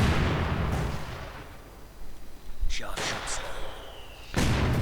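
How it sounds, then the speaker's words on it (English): Sniper and mortar fire in the real-time strategy game Company of Heroes 2: scattered gunshots and explosive booms, some near and some distant, sounding in several bursts with a rumbling battle backdrop. "Snipers and mortars continue their nasty work."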